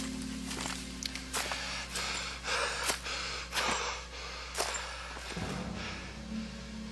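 Gasping, laboured breaths from a wounded character in the Pillars of Eternity video game, several sharp intakes spaced across a few seconds over a low steady background hum, fairly close.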